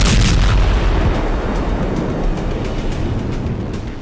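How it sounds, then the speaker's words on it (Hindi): A loud, rumbling bomb blast in a village in southern Lebanon roars out at the start and rolls on as a long, low, gradually fading rumble. "और फिर कुछ सेकंड के बाद हुआ दूसरा धमाका।"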